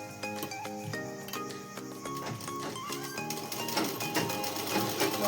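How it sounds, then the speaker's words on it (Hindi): A sewing machine stitches a simple dress in rapid, rhythmic bursts of mechanical clatter, the needle's steady chatter starting and stopping as the fabric is guided, close and fairly loud with no talking. "अब मैं इसको आपको इस पर रखकर इसको सिलाई लगाकर बताती हूँ"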